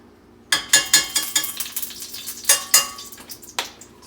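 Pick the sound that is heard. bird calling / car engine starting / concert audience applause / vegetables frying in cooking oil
vegetables frying in cooking oil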